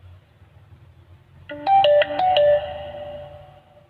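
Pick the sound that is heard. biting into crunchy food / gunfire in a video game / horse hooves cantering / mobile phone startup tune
mobile phone startup tune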